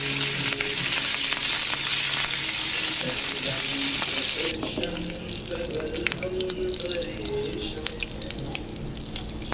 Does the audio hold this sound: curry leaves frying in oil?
yes